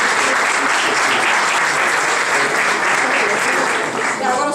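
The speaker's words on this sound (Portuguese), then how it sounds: "Uma salva de palmas." Audience applause at an urban energy-efficiency conference session, a dense steady clapping that fills the room and holds evenly throughout.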